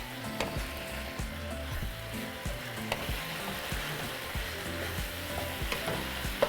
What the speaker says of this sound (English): we're going to add our vegetables. So just make sure you mix everything